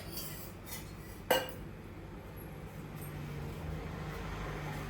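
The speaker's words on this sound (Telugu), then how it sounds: "చూడండి, ఇప్పుడు ఒక ప్యాన్ పెట్టుకున్నా." A metal pan set down on a kitchen stove ahead of deep frying gives a single sharp clank partway through, with quieter handling sounds and steady low background hum around it.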